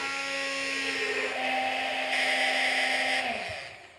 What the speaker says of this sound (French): On met notre mixeur.